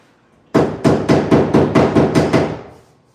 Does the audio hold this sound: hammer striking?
yes